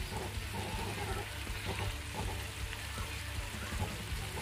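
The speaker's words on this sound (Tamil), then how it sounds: "இப்போ இதையும் ஒரு வதக்கு வதக்கிட்டு" Chicken manchurian sautéing with soy sauce in a pan gives a steady, close sizzle with scattered small crackles and pops throughout, with no talking over it.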